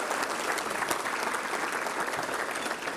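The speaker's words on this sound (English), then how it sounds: "Let's give a big round of applause for all of our sponsors" Steady, full applause from a banquet audience at a touchdown club awards dinner, dense clapping that holds at an even level throughout, with no voices standing out.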